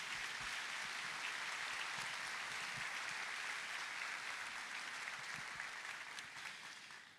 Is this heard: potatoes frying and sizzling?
no